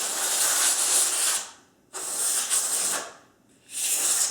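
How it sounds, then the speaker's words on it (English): Compressed air blasting through a Sig Sauer P226 pistol during cleaning, three loud hissing bursts of about a second and a half each, separated by short pauses, close up with no talk. "Come back with compressed air."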